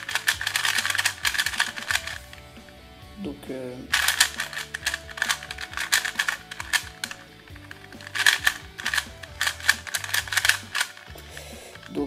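Moyu Lingpo 2x2 speed cube being turned rapidly, a dense run of sharp plastic clicks and clacks in quick bursts with a brief pause, up close, with a voice speaking briefly.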